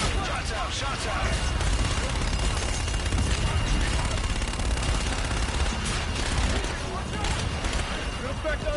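Call of Duty gunfire rolls on as a dense, continuous barrage of shots and blasts, loud and close, with no pause across the stretch.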